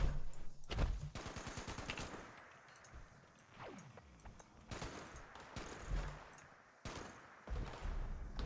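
Bursts of rapid automatic gunfire in Fallout 76, loud clustered volleys with short gaps and a few single shots between them; no speech.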